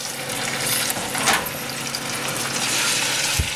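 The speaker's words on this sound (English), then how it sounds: "Transfer your meat to this hot pan." Pork chops for chocolate pork chops fry in a hot oiled pan, a continuous close, loud sizzle and spattering hiss with a single soft knock near the end and no voices.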